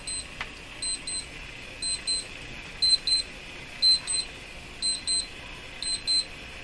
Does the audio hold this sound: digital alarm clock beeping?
yes